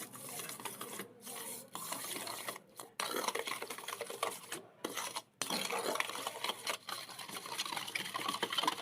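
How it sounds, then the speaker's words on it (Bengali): Sour yogurt and sugar are stirred together in a bowl, a close continuous scraping and swishing with a few brief pauses between strokes. "টক দই আর চিনিটা ভালোভাবে মিক্সড করে নেব একটু।"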